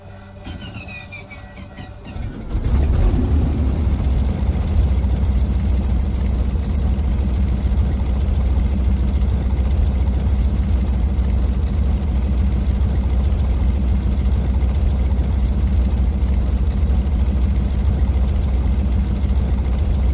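A Focke-Wulf Fw 190 radial engine in a flight simulator cranks, catches at about two and a half seconds, then settles into a loud, steady rumbling idle that continues without break.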